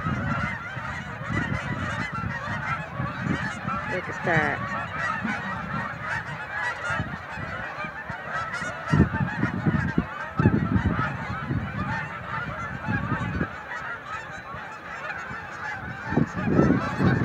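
A flock of geese honking continuously, many overlapping calls at moderate distance with a few louder nearby honks; a person speaks briefly over them.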